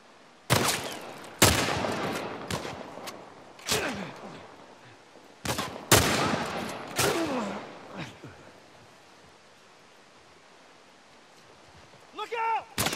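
Gunfire rings out in The Last of Us Part I, with several loud, sharp shots and bursts in quick succession over roughly eight seconds, each one trailing off into reverberation, before a quieter lull and a brief vocal sound near the end.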